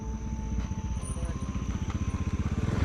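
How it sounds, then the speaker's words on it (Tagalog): A motorcycle engine on a mountain road along the Cebu Divide, a steady low throbbing that grows louder and more insistent as it draws nearer, with no voices over it. "Ayun yung motor oh."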